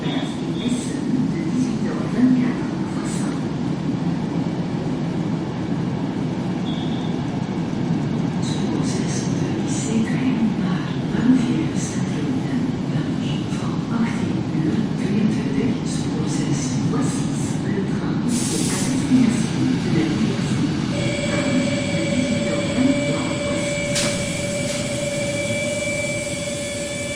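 Train at a busy railway station, a continuous low rumble and hum of rail traffic with station ambience, a brief higher hiss near the end and a steady tonal whine in the last seconds.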